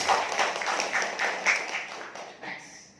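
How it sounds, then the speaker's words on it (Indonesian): An audience at an Islamic lecture on Hajj and Umrah claps and applauds, a burst of overlapping hand claps that rises quickly and gradually thins out over a few seconds. "Tepuk tangan untuk Bapak Ibu semua"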